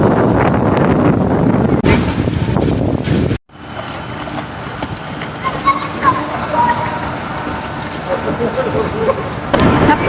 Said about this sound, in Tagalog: nagwe-wave yung mga trees talaga kasi malakas yung hangin